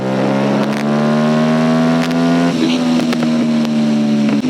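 A 2025 Aprilia RS457 motorcycle engine revs loudly and close, its buzzing tone climbing slightly, with sharp crackles and pops scattered through it.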